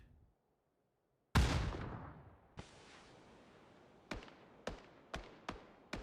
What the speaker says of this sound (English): They're actually going to nade each other.